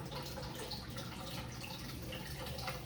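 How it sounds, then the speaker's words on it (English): Continuous rush of spring water pouring and filling a fish tank, steady and fairly close, with no voices. "Fish tank is filling up nicely."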